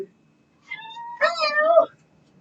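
A kitty in a kitchen during cooking lets out a single close, clear meow that rises and stretches out for about a second, with no other sound around it.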